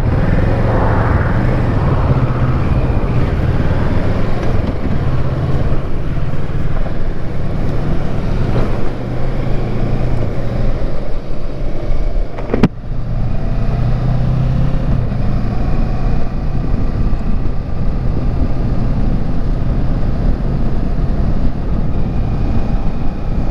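Kawasaki Versys 650 ABS Tourer motorcycle, a 2018 model, riding along a road with a loud, continuous engine drone and heavy wind rush throughout, one brief sharp click partway through.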